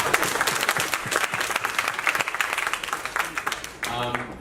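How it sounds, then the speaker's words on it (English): An audience claps steadily in a dense burst of applause that tapers off near the end, where a voice briefly starts talking. "Can we have a round of applause for Sam?"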